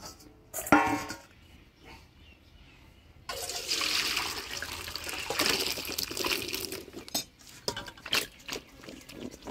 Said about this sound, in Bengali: মাছ কাটে নিলাম, এবার পরিষ্কার করে ধুয়ে নিই।